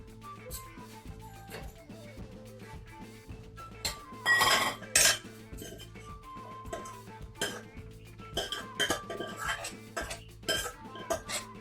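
Kitchen dishwashing with a kadhai (wok) and other utensils: repeated metallic clanks and clinks of pots, pans and cutlery, with a louder burst of clattering and running-water splashing midway, and no talking.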